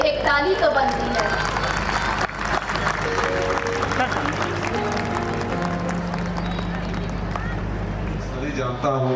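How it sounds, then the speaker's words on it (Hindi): Audience applause at a school annual function, broad steady clapping throughout with music and talk mixed in underneath. "इतनी अच्छी वेलकम के लिए एक ताली तो बनती है।"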